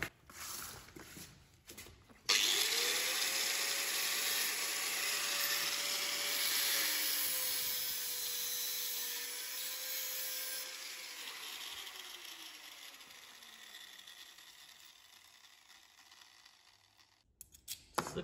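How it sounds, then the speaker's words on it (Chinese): A power tool whines steadily while cutting a long screw shorter during cabinet installation, a loud continuous high-pitched grind lasting about ten seconds that gradually tapers off before stopping. "现在这个螺丝就是我给它切一下"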